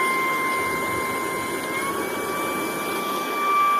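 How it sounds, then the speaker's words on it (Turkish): An ONVO cordless vacuum cleaner runs at its second power level, giving a steady close whine with thin high tones over a constant airy roar. The sound holds level throughout and rises slightly near the end, with no talk. "Şimdi şu alanda da ikinci seviyeye çıkaracağım süpürgeyi."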